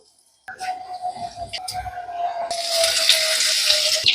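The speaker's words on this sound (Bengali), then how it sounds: "ফুলগুলো একটা করে এইভাবে সুন্দরভাবে ডুবিয়ে নেব আর ফুটন্ত গরম তেলে ছেড়ে দেব" Batter-dipped bok flowers are dropped into hot mustard oil, starting with a sharp hiss and clatter, then swelling into a loud, dense, continuous sizzle in the second half.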